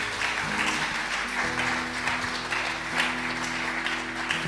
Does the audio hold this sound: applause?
yes